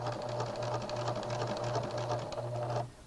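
A sewing machine stitches a dart in matching thread, running steadily with a fast, even mechanical chatter and a low motor hum, pausing briefly between short bursts, then stopping abruptly near the end.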